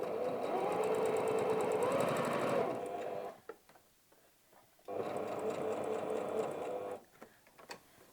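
Sewing machine stitching through four bulky layers of denim for a wallet, running in two steady buzzing bursts of a few seconds each with a quiet pause between, close and loud.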